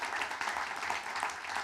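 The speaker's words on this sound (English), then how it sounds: "An applause for the diaspora." Brief burst of steady audience applause at an Afrikadag closing ceremony, dense and even clapping from a crowd lasting under two seconds.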